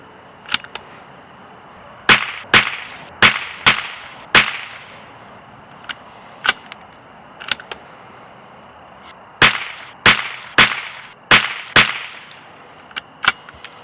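Eley Ultra rimfire rounds fired from a CZ457 VPT rifle at 100 yards: a long series of sharp, loud cracks, some in quick clusters with short pauses between, no talk.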